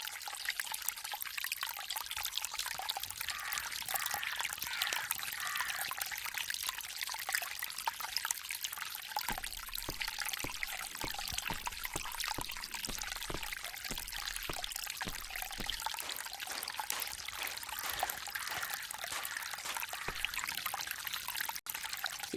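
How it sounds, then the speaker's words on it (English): Fountain in the garden scene of the Agatha Christie The ABC Murders video game, with water trickling and pouring in a steady, continuous splashing stream, close and even throughout with no talking. "This fountain makes a very relaxing sound."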